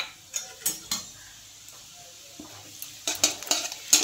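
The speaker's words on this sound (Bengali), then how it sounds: "জিরেটা একটু নেড়ে দিলাম।" A spoon stirs whole cumin seeds in hot oil in a wok, producing close metallic scrapes and clinks in short bursts, with faint sizzling between them and a busier cluster of strokes near the end.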